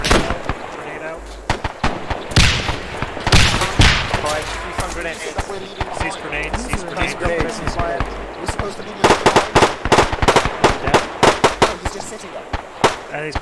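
Rapid grenade blasts and bursts of gunfire crack through a video game firefight, loud sharp impacts clustering in dense volleys, with shouted talk mixed in between the explosions.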